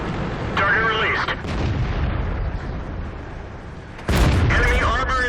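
A tank cannon fires in the World of Tanks video game, heard as a loud, abrupt boom near the end. Crew radio voices talk earlier over a steady rumbling engine backdrop.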